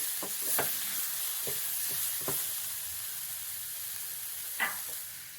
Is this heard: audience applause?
no